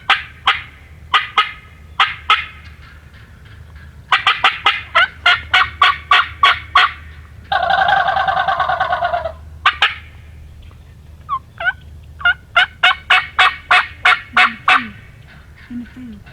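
A turkey gobbles loudly and close in a field, several rapid rattling bursts repeating across the stretch with a longer honking call in the middle.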